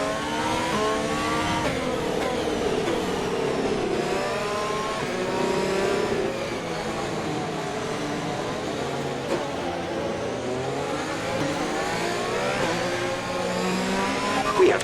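A pack of F1 race cars in the F1 2020 video game accelerates away after the safety car at Baku, engines climbing through the revs and shifting over and over, loud and overlapping, with a continuous rising and falling whine.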